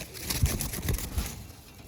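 Pigeons in a Giribaz loft coo close by in a few soft, low, repeated bursts against a quiet background.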